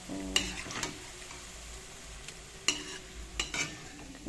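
Rice flour boras frying in oil in a pan, a soft steady sizzle under several sharp metal clinks and scrapes of a spatula turning them, close by and sparse, with no talking.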